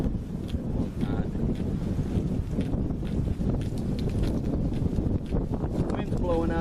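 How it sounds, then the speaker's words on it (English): Strong wind buffets a microphone on a mountainside during a February overnight camp with a homemade canvas tarp, a steady loud rumbling roar with gusts, and a voice speaking over it. "The wind's blowing out here like crazy."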